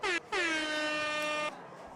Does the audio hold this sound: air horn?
yes